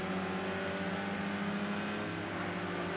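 A GT3 race car's engine pulls out of a chicane with a loud, steady, buzzing drone. Its dense harmonic tone holds close and constant for the whole moment.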